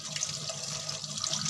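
Fish fillets rinsed under a running kitchen tap, a steady close splashing stream of water that continues throughout without pause and without talk.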